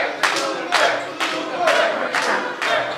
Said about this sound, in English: Hear the crowd chanting super on.